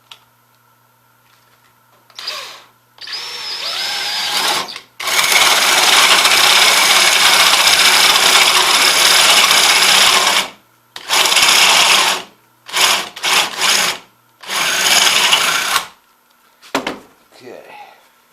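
A power drill drilling wood whines in several bursts, one long stretch and a few short pulls, loud and close, with quiet pauses between.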